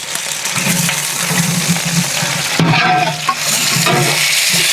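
Onions fry in hot oil with a continuous loud sizzle, broken by occasional scraping and clinks of stirring.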